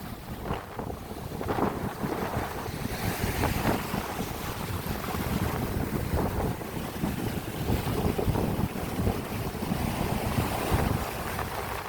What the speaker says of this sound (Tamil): கடலின் சீற்றம் இதுதான்.